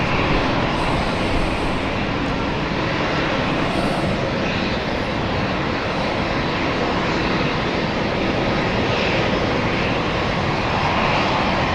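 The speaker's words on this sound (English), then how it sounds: "On final here. Airbus A220." An Airbus A220 jet on final approach at London City, a loud, steady, broad engine roar that stays constant throughout with no break.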